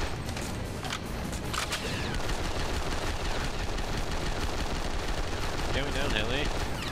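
Gunfire in the PC game James Bond Nightfire sounds as rapid, sustained automatic shooting with a few sharper cracks early on, dense and loud throughout, with a voice speaking faintly underneath.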